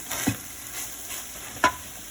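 A spatula stirs chicken fried brown rice in a pan, giving soft scraping strokes with a couple of sharper clanks over a faint sizzle.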